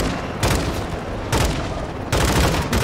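Bursts of gunfire in Call of Duty: Modern Warfare 2 (2022), three loud, close volleys spaced about a second apart over a constant background of battle noise, with no talk.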